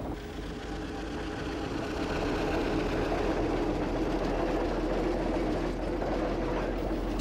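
A steam traction engine road roller runs with a dense, continuous mechanical chugging and rumble, steady and moderately loud throughout, with no talking.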